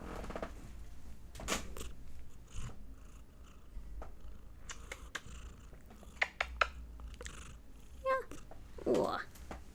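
A domestic cat purrs close by in a low, continuous rumble, while a person talks softly to it over the top and a few small bumps and rustles break in.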